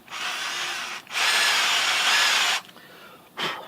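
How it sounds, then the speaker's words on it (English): A drill boring a pilot hole in steel on a John Deere seesaw: a steady high whine in two long bursts separated by a short pause, then a brief final burst, close and loud. "let's drill the pilot hole"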